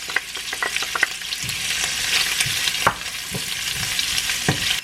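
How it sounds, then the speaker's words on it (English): Kielbasa sausage and chopped onion sizzle in olive oil in a pan, a steady close hiss broken by sharp clicks and scrapes of stirring, with no talking. "We're going to start off with adding just a little bit of olive oil to your pan. Add your sausage. Go ahead and throw in your onion."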